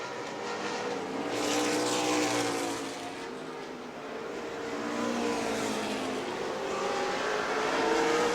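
Race cars circling the track during weekly racing at New Smyrna, with continuous engine roar rising and falling as the cars pass, fairly steady and moderately loud, and no voices.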